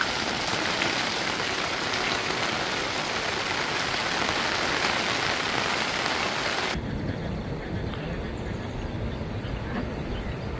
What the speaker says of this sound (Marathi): 48 तासांपासून वर्ध्यामध्ये मुसळधार पाऊस बरसतोय